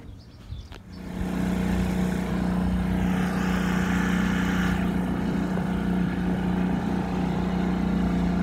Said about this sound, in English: Engine is running nice